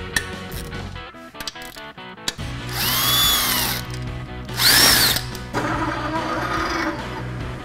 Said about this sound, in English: Now we start to remove external bolts.